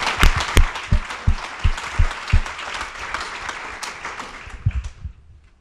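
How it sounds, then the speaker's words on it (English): A round of applause from a room full of people at a breakfast event, with heavy hand claps standing out close by over a dense wash of clapping that fades away at the end. "A round of applause."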